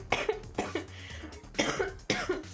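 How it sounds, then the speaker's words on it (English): A person coughs repeatedly at close range, with about four separate bursts of coughing spaced across a few seconds, loud and unaccompanied by talk. "Sorry for the coughs."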